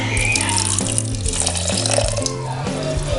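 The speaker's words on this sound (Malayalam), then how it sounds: "നികത്തി വെള്ളം ഒഴിക്കാം" Water rushes steadily over two cups of raw rice in a container as Kerala vellayappam batter is prepared, a continuous full splashing pour with no voices.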